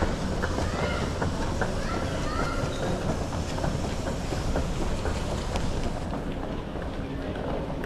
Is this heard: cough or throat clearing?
no